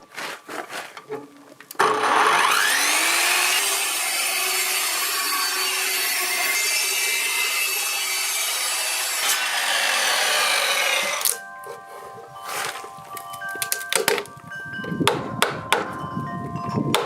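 A circular saw rips through a wooden beam for a 300-year-old barn restoration, a loud sustained whine of about nine seconds that stops abruptly, followed by sharp irregular knocks of chiseling and tool handling on timber.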